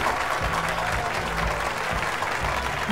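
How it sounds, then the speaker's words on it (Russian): Enthusiastic applause greets an award winner at a ceremony, a dense, loud, continuous roar of clapping hands with a low hum beneath. "Бурные аплодисменты!"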